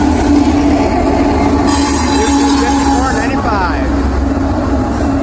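Union Pacific freight train rumbling close by as it passes, with wheel squeal and steady rolling clatter running throughout, ending with the DPU locomotive at the rear of the train; someone talks over the noise.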